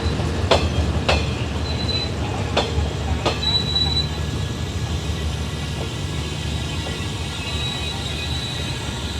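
Express train No. 23 Isan Wattana, running from Bangkok to Ubon, rumbles steadily on the rails nearby, with sharp clanks early on and faint wheel squeals above the continuous rolling noise.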